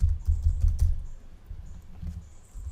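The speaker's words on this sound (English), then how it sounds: "I'm going to type in here growth hacking" Keys clatter on a computer keyboard as a search phrase is entered, close and fairly loud at first in quick uneven taps, then thinning to sparser strokes.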